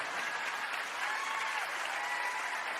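Steady audience applause at a magic show, a dense even wash of clapping from a crowd, fairly faint and continuous throughout with no voices standing out.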